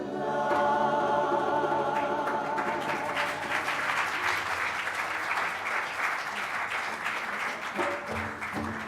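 An audience at the CBU Annual General Assembly in Kingston, Jamaica applauds Jamaican folk singers, with sustained, dense clapping that stays loud throughout and tapers slightly near the end.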